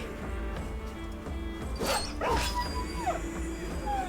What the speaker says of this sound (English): Well, they got the dog, I'll give them credit for that one.